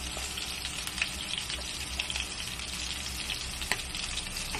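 Longganisa sausage frying in a pan until crisp, a steady close sizzle and crackle running throughout with occasional louder pops, no voices.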